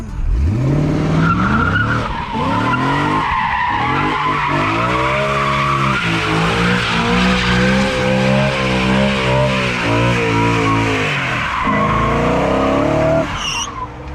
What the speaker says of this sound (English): So what we're gonna do is just do some donuts.